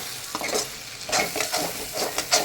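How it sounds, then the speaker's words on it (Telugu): Semiya, thin vermicelli, fries in a pan for masala upma while being stirred now and then, giving a close, soft sizzle broken by several scraping strokes of the spoon. "ఒక హాఫ్ అన్ అవర్ బాగా ఫ్రై అయిపోతే మధ్య మధ్యలో కొంచెం కలుపుకుంటూ ఉండాలి"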